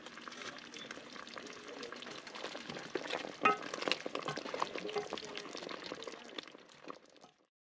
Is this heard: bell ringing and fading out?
no